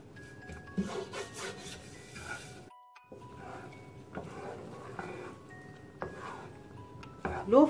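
A spoon scrapes and rubs steadily against a pan while a powdered-milk khoya mixture is stirred over a low flame, with soft rasping strokes and occasional light clinks close by.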